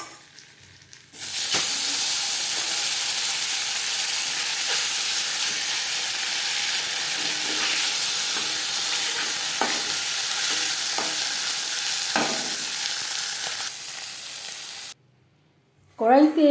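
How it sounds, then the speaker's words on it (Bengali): Bata fish frying in hot oil in a pan gives a steady, loud sizzle lasting most of the stretch, with occasional stirring clinks and scrapes, then cutting off abruptly near the end. "মাছ ভাজা হয়ে গেছে"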